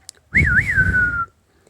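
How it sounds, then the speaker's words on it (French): A single warbling whistle, rising and dipping before a steady held note, close and clear in near silence. "Un oiseau perché sur une branche ouvre un large bec et siffle."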